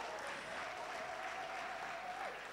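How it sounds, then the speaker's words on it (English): Round of applause from the audience at a 2021 education panel discussion, a steady dense wash of clapping held fairly quiet and distant for its whole length, with a faint tone running beneath it. "Let's give them a round of applause"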